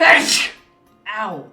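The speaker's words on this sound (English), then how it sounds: "Oh, I gotta sneeze." A single forceful human sneeze, loud and close, followed after a short pause by a pained exclamation from the same person.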